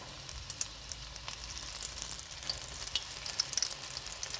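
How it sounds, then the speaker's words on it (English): Flour-coated venison pieces frying in a pan of oil, a steady close crackling sizzle with bright pops scattered throughout, no voices. "we're going to go ahead and take our venison, drop it right in the oil"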